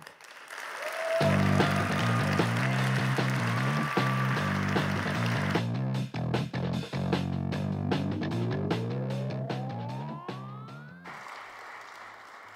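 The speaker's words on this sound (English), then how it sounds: "Join me in applauding Phil and Kylie Wong." Audience at the 2018 Stanford Athletics Hall of Fame ceremony applauds: a loud, dense burst of clapping that thins into separate, sharper claps while sustained tones play underneath.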